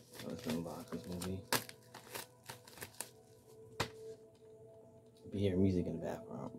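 Crinkling and tearing of the plastic wrapping on a DVD movie set in bursts, with a few sharp clicks, close to the microphone.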